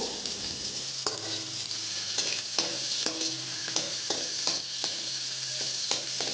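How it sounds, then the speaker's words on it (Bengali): Onions fry in hot mustard oil in a pan, an even sizzle up close, punctuated by regular sharp taps and scrapes of a spatula stirring. "তেলটাকে গরম করার পর আমি দিয়ে দিলাম পেঁয়াজ"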